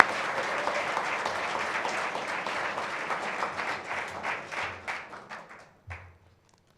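Audience applause at an awards ceremony, a sustained wash of many hands clapping that gradually thins into scattered claps and dies away near the end.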